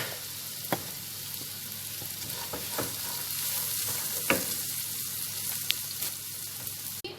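Meat fries with cumin, cardamom powder and pepper in a pan for majboos: a steady close sizzle with occasional sharp utensil knocks and stirring scrapes.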